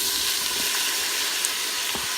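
Onions and mushrooms sizzle in melted butter in an Instant Pot on sauté, a steady close hiss that keeps going the whole time with no one speaking.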